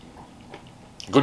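A single loud, crunchy bite into a crispy fried chicken sandwich with spicy mayo lands near the end, preceded by quiet background and faint voice-like murmurs.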